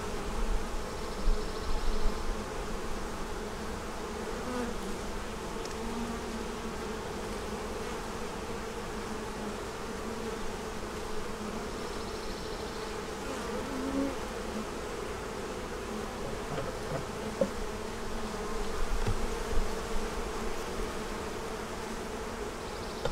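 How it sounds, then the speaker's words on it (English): Healthy honeybees buzzing around an open hive, a steady, dense hum that continues throughout with slight swells in intensity. "Some healthy looking bees."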